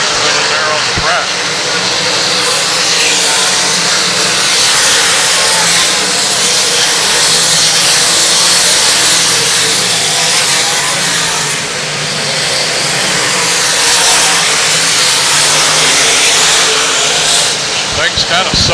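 Race cars roaring around the Lakeside Speedway oval during an A-main, a loud, steady engine drone filling the whole stretch with a slight dip midway, while an announcer talks over it.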